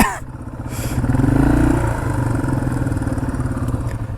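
A Yamaha TW200 motorcycle cruises in sixth gear, its engine droning loud and close with a throbbing low pulse and rushing wind noise, swelling slightly before settling to an even run.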